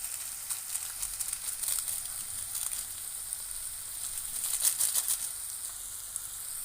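Maggi noodle masala sautéing in a pan, a soft steady sizzle with scattered crackles that swell briefly midway, faint and continuous with no voices.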